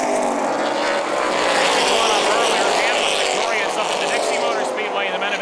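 Race cars roaring around the dirt oval at New Paris Speedway, a loud sustained engine drone with shifting pitch as cars pass, under an announcer's commentary.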